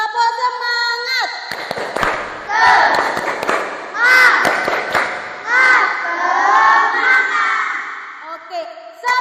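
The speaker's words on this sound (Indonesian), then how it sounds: "Tepuk semangat." A class of schoolchildren performs a rhythmic clapping cheer with their teacher, sharp claps in patterned bursts mixed with loud chanting and shouting voices, the group sound rising and falling across the stretch.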